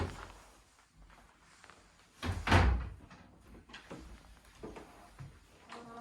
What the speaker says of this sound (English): Heavy doors.